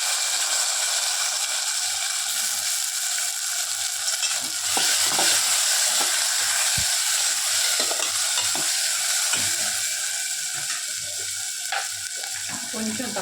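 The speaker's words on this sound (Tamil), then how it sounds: "ஸோ நம்ம கட் பண்ணி வச்சுருந்த தக்காளி போட்டணும்." Onions that have turned golden and freshly added cut tomatoes sizzle and fry in a pan while a spoon stirs them. A steady, close frying hiss plays throughout, broken by occasional scraping clicks, and no one speaks.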